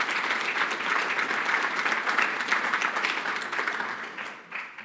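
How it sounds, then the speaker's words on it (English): Audience applause at a cybersecurity awards ceremony for a finalist: a full room clapping steadily and loudly, a dense even patter that tapers off near the end. "let's give Chris a round of applause"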